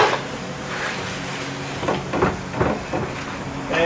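An electric actuator swings a 6.5 ft extended stop arm closed, a low mechanical whir with a few clunks and knocks near the end, heard close with no talking.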